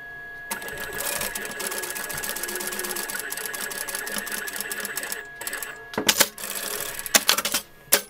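A sewing machine sews a seam right sides together on a rag doll's off-shoulder dress, a close, steady mechanical whir lasting several seconds, then stopping, followed by clicks and a few sharp handling knocks.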